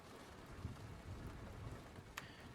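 Steady rain falls in a visual novel game, a dense, even hiss with low rumbling underneath and one faint sharp tick near the end.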